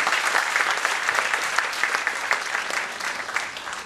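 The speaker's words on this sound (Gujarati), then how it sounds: "ફરી એક વખત જોરદાર તાળીઓથી આપણે એમને વધાવી લઈશું" An audience at a community gathering applauds two guest speakers: loud, dense, sustained clapping from a crowd, steady throughout with no voices over it.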